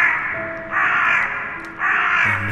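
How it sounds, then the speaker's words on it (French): Raven cawing as an audiobook sound effect in a reading of Edgar Allan Poe's The Raven: two long, harsh caws, loud and close, separated by a short pause, with a faint steady ambience underneath and no voice. "entra un majestueux corbeau des saints jours de jadis"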